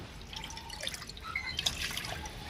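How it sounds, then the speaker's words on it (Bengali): Water poured cup by cup into a pan for sugar syrup for khirmalai sweets, a steady close trickle with light splashing and dripping throughout, alone without speech. "এই কাপের আমি পাঁচ কাপ জল দেব"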